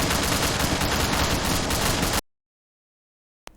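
Mounted machine gun on a helicopter in Roblox Blackhawk Rescue Mission fires in one loud, unbroken rapid burst for about two seconds, then cuts to silence, with a brief sharp blip at the very end.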